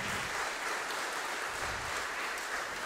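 An audience at a Jūrmala music school year-end concert applauds outstanding wind and other instrument students, a steady, dense, moderately distant roar of many hands clapping with no talk over it.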